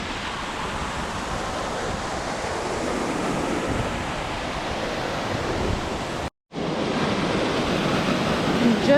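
A waterfall in Northern NSW roars as a continuous broad rush of falling water, steady and close, with a brief dropout partway through.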